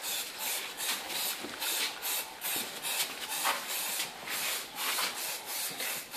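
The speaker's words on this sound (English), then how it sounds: "make sure that you spray as evenly as possible all over the entire surface of the area that you want covered" Red Foliatec spray film hisses out of an aerosol can in repeated, even bursts as a surface is coated, each pass a close, steady spray with brief pauses between, and no talking.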